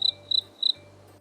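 A cricket chirps in three short, evenly spaced bursts of high trills, close and clear over a quiet low hum, with no voices.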